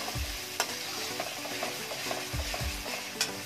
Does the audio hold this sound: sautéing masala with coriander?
yes